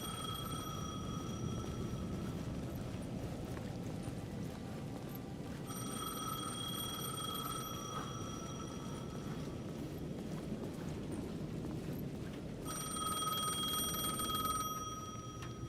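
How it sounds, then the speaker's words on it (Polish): A payphone rings in the plaza of the video game Alan Wake 2, sounding in repeated bursts of bright, bell-like tones over a low ambient rumble. No one speaks. "The payphone at the edge of the plaza was ringing again."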